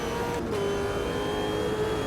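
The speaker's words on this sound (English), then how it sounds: "I can see the headlights, the car coming up behind me." A race car closes in from behind in the video game Automobilista 2. Its engine holds a steady, moderately loud drone with a sustained tone for a couple of seconds.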